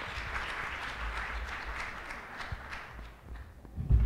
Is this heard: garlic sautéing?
no